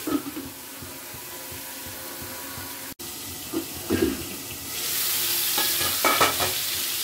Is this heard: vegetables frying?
yes